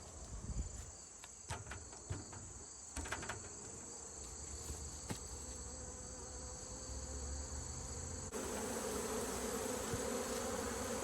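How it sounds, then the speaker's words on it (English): Dense buzzing of honey bees rising from an open hive during a fall inspection, a continuous close drone punctuated by a few sharp knocks of the hive being handled, with no talk. "Wow, that's a lot of bees, people."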